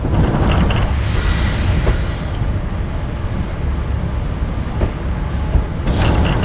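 Train pulling into Bantwal railway station on the Subrahmanya Road to Mangalore line, a loud continuous rumble of wheels and carriages heard from on board, with brief squeals and clatter.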